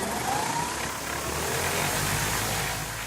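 The engine of a clean-energy aircraft runs as a steady, loud broadband roar with a low droning hum, close and continuous, with no speech.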